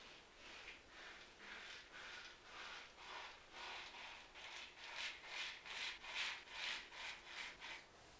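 A razor scrapes across stubble on a second pass against the grain, a series of short, rhythmic strokes that grow quicker and louder toward the end, close but quiet.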